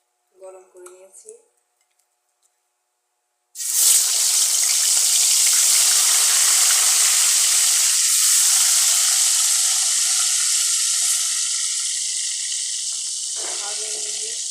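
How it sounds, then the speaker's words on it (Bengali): Washed, salted chicken pieces drop into hot oil and erupt into a loud, continuous sizzle that stays strong for about ten seconds, after a brief clink of utensils. "আমি এখানে সবার প্রথমে চিকেনটাকে ধুয়ে লবণ দিয়ে মেখে ভেজে নেব"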